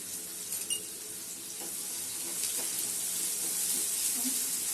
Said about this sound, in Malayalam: ഇനി നമ്മുടെ ഉള്ളിയൊന്നും ഫ്രൈ ആയി വരണം. നമ്മുടെ ഉള്ളി ഇവിടെ ഫ്രൈ ആയി വന്നിട്ടുണ്ട്.